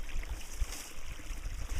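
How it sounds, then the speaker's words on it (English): Water flows over a weir at an irrigation turnout, a low, steady rushing murmur with soft gurgles, heard close and alone for a couple of seconds. "There's a water song for Wayne to hear."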